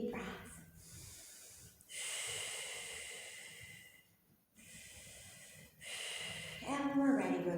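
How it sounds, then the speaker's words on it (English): Deep, slow breathing during a yoga Pilates fusion flow: long, airy inhales and exhales in a few drawn-out cycles, close and moderately loud, with brief pauses between breaths and no talking. "Deep breaths."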